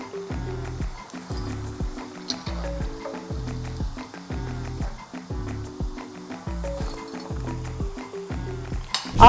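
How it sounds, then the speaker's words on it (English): Fried cassava is stirred into masala sauce in a pan, giving a regular series of spoon-on-metal clinks and scraping knocks, about a dozen strokes in steady rhythm, close and moderately loud. "I put it into the sauce and give it a really good mix and a stir"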